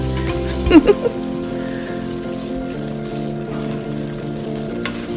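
Regular rice frying in a pan for combination fried rice, a steady soft sizzle throughout with a couple of brief louder clatters near the start, close and without talk.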